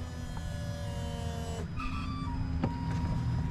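Electric fuel pump priming in a Jeep Wrangler or Gladiator diesel after a fuel filter change, a steady whine with high tonal hum heard close over faint engine-bay noise, cutting out midway and then resuming briefly.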